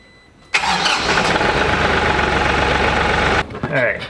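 A Kioti DK4210 tractor engine cranks and catches with an abrupt loud start, then runs at a steady, rough idle for several seconds before cutting off, followed by faint movement.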